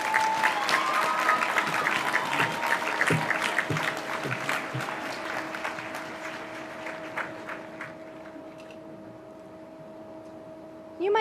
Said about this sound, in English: Can I get one final round of applause for everyone I just listed?